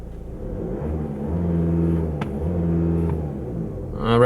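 A 2016 Volkswagen CC engine revs up from idle with a loud, steady rumbling drone that rises and holds as the throttle opens, heard close from inside the car, with a brief whirring lift near the end.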